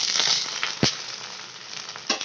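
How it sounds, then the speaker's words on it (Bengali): An egg fries in hot oil in a wok, crackling and sizzling loudly up close, with a few sharp spatters standing out. "কড়াইয়ের মধ্যে তেল দিয়ে দিয়েছি, কড়াইটা গরমও হয়ে গেছে। এবার আমি এর মধ্যে ডিমটা দিয়ে দেবো।"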